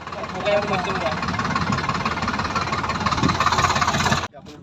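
A tractor engine idles with a steady knocking rumble, voices talking over it, until it abruptly cuts off near the end.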